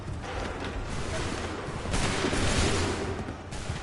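Musket volley in Assassin's Creed 3, a dense crackling fusillade of many shots fired together, loud and sustained with rumbling booms and battlefield noise, swelling again partway through.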